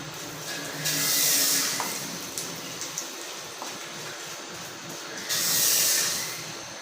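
Hot tempering with curry leaves and asafoetida poured into an Andhra-style bottle gourd gravy, giving a loud broad sizzle that surges at the start, fades to a steady hiss, then flares again near the end.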